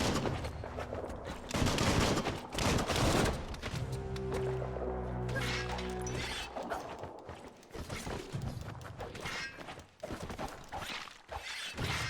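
Gunfire from the action game Biomutant, dense bursts of shots and mechanical clatter running throughout at close range, mixed with other game sounds and no speech.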